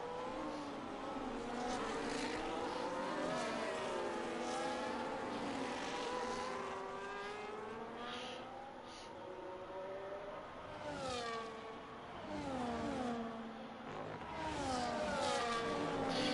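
Formula race car engines howl around the track at the Austrian Grand Prix in the F1 25 video game: several cars with rising and falling high-pitched whines, passing continuously and fairly loud, with no talking.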